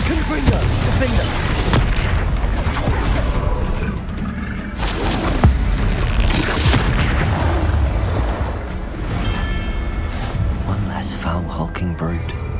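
Confringo explosive spell blasts in the video game Hogwarts Legacy, deep booms and roaring bursts over a dense, loud battle mix of combat effects, with a voice casting spells throughout.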